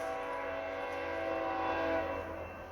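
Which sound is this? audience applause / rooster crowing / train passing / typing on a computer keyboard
train passing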